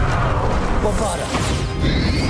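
Bombarda blasting spell cast in Hogwarts Legacy, a loud crashing burst with a whooshing sweep and debris-like clatter that fills the whole moment under steady game noise.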